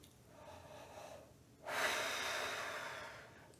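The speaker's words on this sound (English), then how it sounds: "let's try breathing in, thinking about expanding our lower body" A deep, slow breath drawn in during a French horn breathing exercise, a soft airy inhale that swells and holds close to the mic with no talking.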